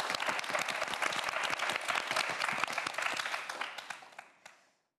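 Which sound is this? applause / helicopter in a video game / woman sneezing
applause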